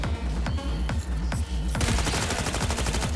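The Fenrir machine gun in Cyberpunk 2077 fires a continuous rapid burst, loud and close, with faster, denser shots toward the end over a low rumbling game background.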